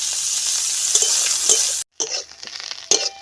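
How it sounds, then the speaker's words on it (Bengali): Neem leaves fry in mustard oil, sizzling steadily in a pan, with a few stirring scrapes and clinks; the hiss cuts out briefly, then resumes. "নিম পাতা ভাজা হয়ে গেছে"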